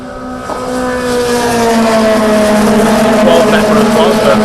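Formula Vee race cars in a pack lapping a circuit, their engines forming a loud, continuous drone that sweeps slowly downward in pitch as they pass close by.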